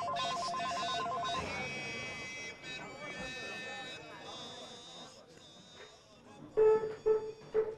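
A telephone rings with a repeating electronic tone in a scene from the Iranian feature film Calamities of a Maiden. It rings clearly at the start, then rings again near the end under voices and other sound.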